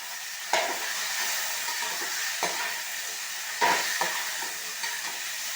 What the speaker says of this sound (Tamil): காய்கள் எல்லாமே வதங்கிடுச்சு.